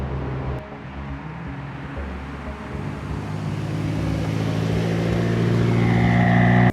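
A tuned 2014 Mitsubishi Evo's turbocharged 2-liter four-cylinder engine drones and climbs steadily in pitch as it revs up, loud and close, with a deep rumbling tone throughout.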